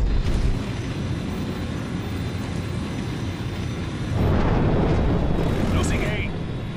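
Napalm strike explosions in a video game: a broad, rumbling blast swells up partway through and keeps roaring over continuous low battle noise, with a faint whistling streak above it.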